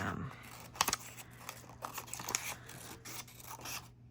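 A dictionary page is cut apart with scissors for a junk journal, giving several crisp snips and paper crinkles close by. A voice talks partly over them.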